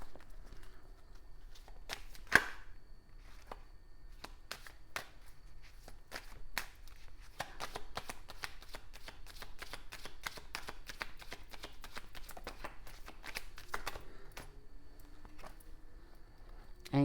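Crisp, rapid card riffles and snaps, repeated in bursts close to the microphone, with faint background voices.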